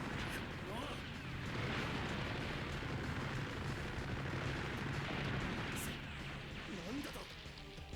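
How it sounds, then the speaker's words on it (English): Rapid bullet barrage from SD Gundam CrossRays, a dense continuous wash of gunfire and bursts under game effects, loud and sustained with a voice talking over it. "you're about to unleash a hellfire of bullets"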